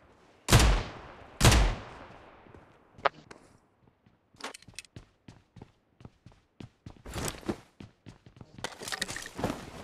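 Two loud, booming shotgun blasts from a first-person shooter game ring out close together near the start, followed by scattered lighter clicks, footsteps and softer distant shots through the rest.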